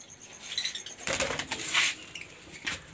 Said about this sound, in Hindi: ये देखें, ये तोते